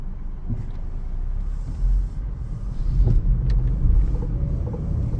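A 2011 Chevy Equinox climbs a hill, heard from inside the cabin as a steady low engine and road rumble with a slight swell partway through, and no talking.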